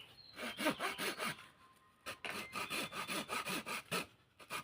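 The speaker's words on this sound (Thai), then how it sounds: "ผมก็จะเลื่อยเลยนะครับ" A hand saw cuts through a bonsai tree branch being taken as a two-node cutting for propagation, with steady back-and-forth rasping strokes heard up close and alone, a brief pause midway before the sawing resumes.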